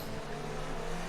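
F1 race cars from a racing video game drone steadily with a sustained engine tone, moderately loud and continuous over a short span, with no speech.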